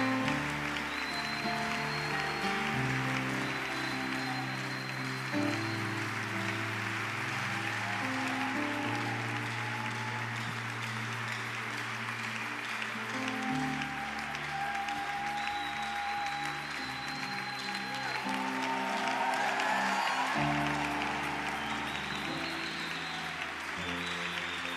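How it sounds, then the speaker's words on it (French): A church congregation applauds Sister Dorcas with steady, sustained clapping that runs the whole time, blended with sustained organ or keyboard chords and some voices. "J'aimerais demander à toute l'Église d'acclamer la sœur Dorcas"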